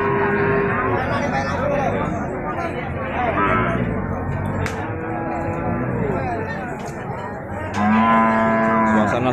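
Cattle moo repeatedly at a busy livestock market, with several long, loud lowing calls from nearby animals over a constant background of crowd murmur and activity.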